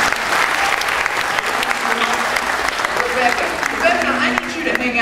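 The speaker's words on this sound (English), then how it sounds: "how about a round of applause for our brave volunteers?" An audience at a live python show claps loudly for the brave volunteers, a dense, close round of applause that fades slightly toward the end, with a voice speaking over it.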